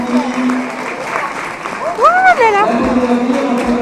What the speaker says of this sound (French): je pense qu'il va sortir sous un applaudissement